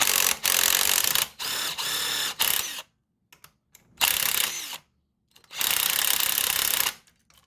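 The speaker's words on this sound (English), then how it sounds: "I've got just another 14 millimeter socket on this ratchet on the other side to hold it" A ratchet wrench with a 14 mm socket works a nut during engine removal on a Honda CBR600F4i motorcycle, giving repeated bursts of loud, close clicking separated by short pauses.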